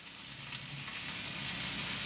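Steak sizzles in a pan with knobs of butter, giving a steady, close frying hiss with faint crackles and no voices.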